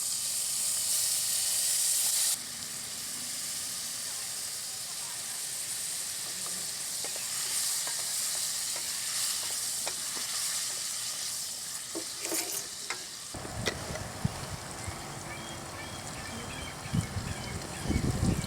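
Chopped tomatoes sizzle and hiss in a hot pan, with a sudden louder burst of frying and scattered stirring clatter toward the end, while cooking arisi paruppu sadam, rice and lentils.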